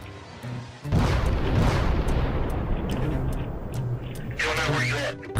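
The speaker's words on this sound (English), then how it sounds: "As the cop reverses, the massive scale of the explosion is terrifyingly obvious." A massive explosion after two trains collided, one carrying compressed flammable propylene gas: a sudden loud roaring blast that sustains as a dense rumbling, crackling roar for several seconds, heard from a police car.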